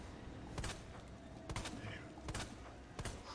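Handgun shots in Resident Evil 2 Remake, four sharp cracks spaced about a second apart, faint and set against a low background hum.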